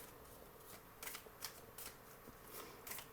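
Angel cards being shuffled, with a soft continuous riffle and several crisp flutters of card edges, close and quiet, and no voice.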